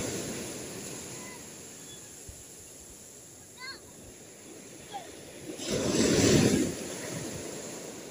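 Ocean waves and surf whipped by a strong northeast monsoon wind at a seaside fishing spot, with a steady windy rush that swells into a loud crashing surge near the end. Faint voices and brief chirps sit underneath.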